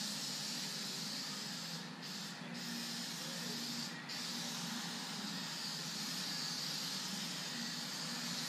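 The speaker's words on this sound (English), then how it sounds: "All my spray glue is winding up on the floor." Spray glue is sprayed onto a panel during sound system work on a Ford Torino, a steady close hiss that runs nearly unbroken with a couple of short pauses.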